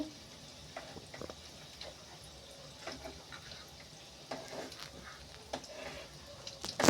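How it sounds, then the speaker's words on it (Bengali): Mung puli (patisapta) fries in hot oil with a soft, steady sizzle, and faint crackles and light pops scatter throughout. "এই দেখো এটা কিরম ভাবে ভাজবে বেশি লাল করে ভাজবে না হালকা"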